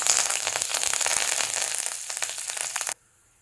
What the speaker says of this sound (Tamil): இப்போ நான் எடுத்து வச்சுருக்கிற அந்த உளுந்தையும் கடலைப்பருப்பையும் போடுறேன்.